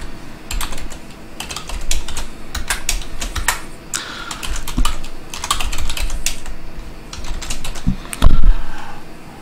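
Rapid clicking of computer keyboard keys while code is typed, close and clear, in uneven bursts with short pauses and a few heavier key thumps near the end, with no talking.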